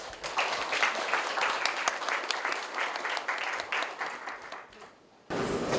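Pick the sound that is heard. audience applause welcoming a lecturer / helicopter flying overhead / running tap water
audience applause welcoming a lecturer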